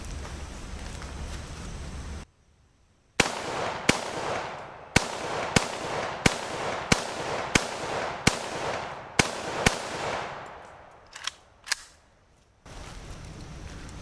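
A Romanian WASR RH-10 AK-47 fires 7.62x39 full metal jacket rounds outdoors: about a dozen sharp, loud shots in a steady semi-automatic rhythm, each ringing briefly, followed by a couple of softer clicks, with no talking.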